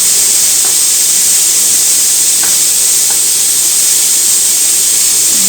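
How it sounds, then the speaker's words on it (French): Bacon lardons fry in a pan with no added fat, making a loud, constant, close hiss and sizzle with a few faint pops and no voices. "Les lardons, il n'y a vraiment pas besoin de graisse, hein. Je vais faire revenir."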